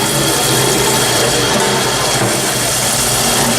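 A fryer oil filter machine runs with its debris-removal wand in use, giving a loud, continuous mechanical whir and rumble that holds steady throughout.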